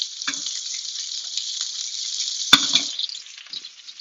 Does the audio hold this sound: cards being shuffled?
no